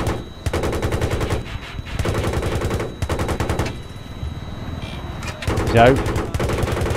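Rapid machine gun fire in Battlefield 3, loud rattling bursts in several long runs separated by short pauses, with players talking over the shooting.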